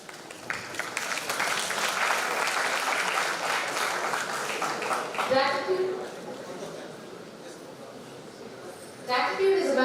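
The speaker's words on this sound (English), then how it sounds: "Let us once again express our gratitude with a round of applause for our distinguished guests." Audience at an architecture event applauding distinguished guests, dense clapping that is strongest at first and then thins out, followed by a voice speaking over the fading claps.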